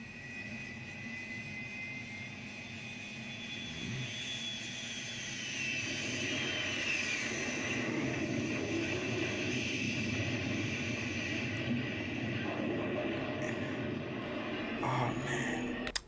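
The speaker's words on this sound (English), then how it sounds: "Here is an actual clip of when that helicopter and that plane met." An American Airlines passenger jet and a Black Hawk helicopter produce a steady, building engine drone, a distant whine fading while a broad roar swells and holds, ending in a brief sharp crack.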